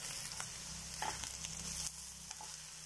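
Eggplant pieces frying in plenty of hot oil with a pinch of turmeric, a soft steady sizzle with faint crackles and a few light stirring knocks, quiet and close, without talk.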